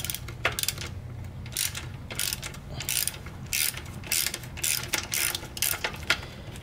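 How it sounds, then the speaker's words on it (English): Ratchet clicking in short bursts while a bolt is undone from the starter solenoid of a Ford 4000 tractor, close and fairly quiet, with a steady low hum underneath. "I'm just going to go ahead and just unbolt this solenoid."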